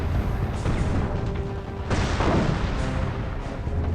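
Anti-tank gun fire in the mobile strategy game Company of Heroes Mobile: a dense, continuous wash of booming battle noise with a sharper blast near the middle, loud and close throughout.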